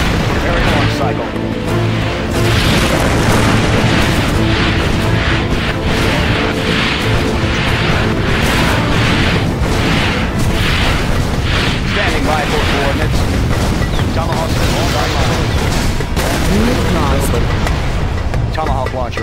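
Tomahawk missile launches and explosions in the real-time strategy game C&C Generals Zero Hour, a loud, continuous barrage of booming blasts and rumbling bursts mixed with game unit voices throughout.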